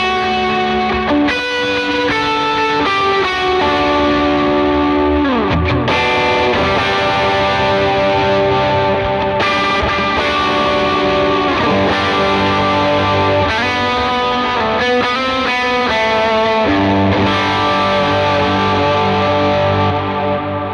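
Electric guitar played through an Imperium overdrive with a Blackhole reverb and an eighth-note delay, loud and sustained chords and melodic lines with distorted, washy tails and repeating echoes throughout.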